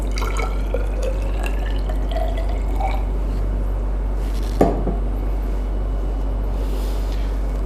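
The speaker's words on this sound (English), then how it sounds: "To find the volume, we will take the measuring cylinder and pour some water." Water is poured into a laboratory measuring cylinder as a faint, steady trickle over a low hum, with one sharp glassy clink partway through.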